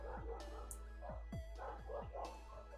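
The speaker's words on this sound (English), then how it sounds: "Cool, more background noise from neighborhood dogs." Neighborhood dogs bark repeatedly in the distance, a series of sharp yips and bow-wow barks in an irregular rhythm, faint and outdoors-sounding beneath a low steady hum.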